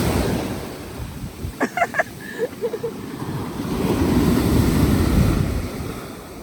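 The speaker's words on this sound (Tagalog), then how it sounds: "Lakas ng alon. Mahangin kasi," Strong surf pounds a windy Kauai shoreline in Hawaii, a rushing wash of waves with gusty wind buffeting the microphone, dipping briefly while a few short voiced sounds cut in, then surging loud again.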